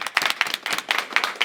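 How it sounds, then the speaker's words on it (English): An audience at a reunion show applauding as hosts come to the stage, with a short burst of dense, close clapping. "Y'all give a round of applause for them."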